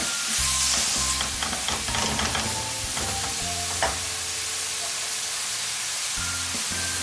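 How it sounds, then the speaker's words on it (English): Samosa filling sizzles loudly in a very hot pan, a continuous frying hiss broken by scraping stirs and clattering knocks in the first few seconds, with no talking. "So that's sizzling until you feel that sound"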